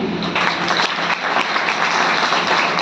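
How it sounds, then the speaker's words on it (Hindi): Steady, dense applause from a room full of newly appointed teachers at an induction training event, even and sustained without pause. "आपके लिए विशेष ताली,"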